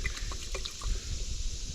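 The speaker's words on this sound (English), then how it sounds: "So what I do is I try to slosh it around, try to get that stuff out." Diesel fuel swirled around inside an excavator fuel filter on a Cat 313 to rinse out debris, giving a soft, continuous close slosh and trickle with small liquid splashes.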